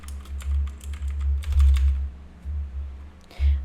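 Keys clatter in short irregular bursts on a computer keyboard over a loud low hum of room or machine noise.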